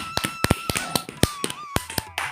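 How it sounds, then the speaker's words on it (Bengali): Scattered hand claps ring out for a first-prize winner at a casual evening competition at home, a few separate sharp claps spread irregularly over a couple of seconds rather than a full round of applause. "তো তোতার জন্য জোরে একটা হাততালি হয়ে যাক।"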